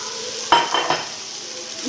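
Chicken frying in a pan for resha kababs, a soft sizzle with a sharp utensil clink and a couple of scraping stirs near the start, then a steady hiss.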